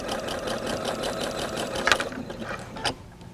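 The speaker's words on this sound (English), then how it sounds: "This sewing machine has a pressure sensitive foot" Sewing machine with a pressure-sensitive foot stitching a quilt block, a fast, steady mechanical whirr close by, briefly punctuated by a couple of sharp clicks before it slows and stops.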